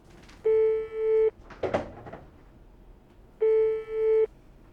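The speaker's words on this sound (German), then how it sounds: "Rufe Andrew an." An outgoing telephone call rings out in two long electronic ringback tones separated by a pause, loud and clear, with a brief faint rustle between them and no speech.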